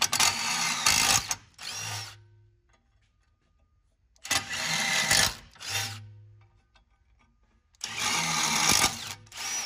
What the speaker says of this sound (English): This is an oversized bit to verify we have clearance for the bolts, and drill the remaining 3 holes